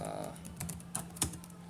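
Fingers type on a computer keyboard in a few quick, light keystrokes with irregular spacing, close and quiet over a low steady hum.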